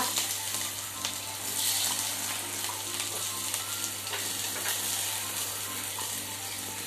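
Onions frying for Maggi noodles give a steady, dense sizzle throughout, with faint stirring scrapes and taps. No voice is heard.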